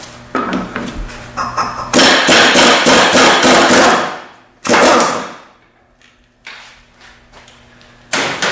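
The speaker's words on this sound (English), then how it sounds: "Now I'll use the impact gun to remove it" An impact gun hammers off the blade bolt on a broken Kubota zero-turn mower in loud, rapid rattling bursts: a long burst, a short one, and another starting at the end, close up.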